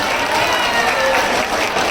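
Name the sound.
audience applause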